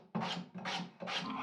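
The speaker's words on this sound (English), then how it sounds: "I'm also sawing out a gap in the middle of each leg" Three rhythmic rasping strokes of a hand saw cutting a gap into a wooden bench leg, close and steady, each a scratchy push-pull sweep.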